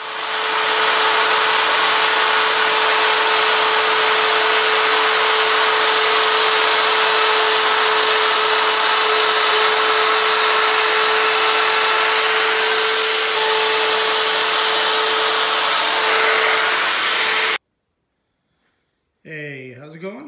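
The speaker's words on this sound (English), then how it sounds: "we're going to take round this off on the top as well and finish sanding it up" A power sander runs loudly and steadily against wood on an aircraft's vertical stabilizer, constant high whir, then cuts off abruptly near the end before a brief voice.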